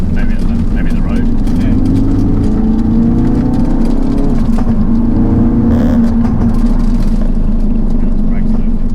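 A race car drives on a road during a multi-day road trip, its engine droning loud and close with a steady tone that rises and falls slightly, and people talk over the noise.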